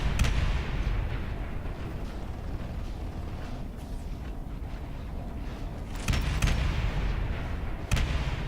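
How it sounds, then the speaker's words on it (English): Grenade launcher rounds exploding during a competitive Natural Selection 2 match, muffled booms and rumbling blasts layered over continuous game noise, with a couple of sharper bursts toward the end. "even the grenades going out?"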